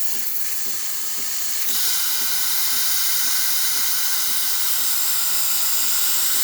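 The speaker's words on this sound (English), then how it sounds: "As the temperature of the thermal block increases, we're going to see much more steam producing from the machine." Steam hisses from the wand of a Breville espresso machine heated by a thermal block, a close, constant hiss that grows louder partway through and then holds steady, with a faint rhythmic ticking underneath.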